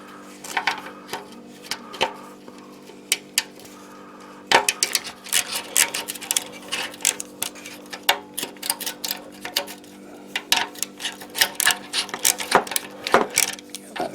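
A ratchet with a 12mm socket loosening the exhaust clamp on a 2015 Honda CBR1000RR ABS motorcycle, steady quick ticking clicks in bursts, close and crisp over a faint low hum.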